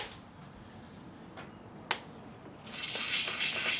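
Coffee beans roasting at home crack with a few scattered sharp snaps, one distinctly louder, before a hissy crackling noise swells and fills the rest.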